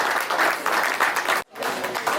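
An audience applauds an evening speaker, a dense burst of close clapping that breaks off abruptly for an instant and then resumes.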